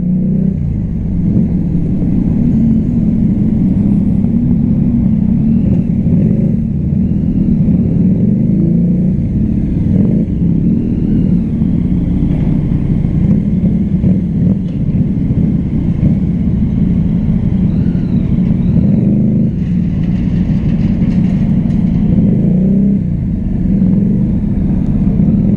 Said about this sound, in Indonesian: Ni low RPM dia.